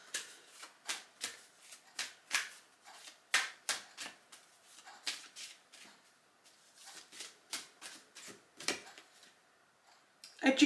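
A deck of oracle cards being shuffled and drawn, with crisp repeated riffles and slaps at close range, fairly quiet, with no talking.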